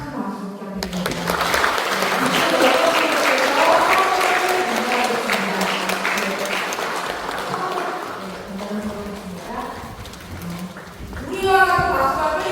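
At a Won Buddhist temple induction ceremony, an audience applauds the new members with sustained clapping, and voices talk over the applause, which fades and then rises briefly again at the end.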